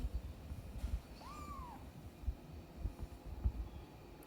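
A single rising-then-falling meow from a bottle-fed newborn kitten, soft and fairly close, over low rustling and handling noise.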